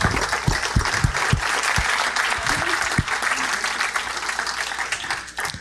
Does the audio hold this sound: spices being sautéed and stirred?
no